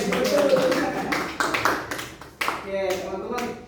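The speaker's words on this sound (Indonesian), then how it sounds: "Tepuk tangan dong, apresiasi betul." A classroom breaks into applause during a microteaching lesson: a burst of scattered hand claps and taps over several seconds, with voices talking over the clapping.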